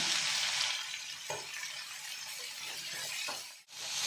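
Chopped onions with ginger, curry leaves and salt sizzle and fry in a pan for a hotel-style masala dosa filling. A steady close hiss is broken by brief stirring scrapes and a short pause near the end.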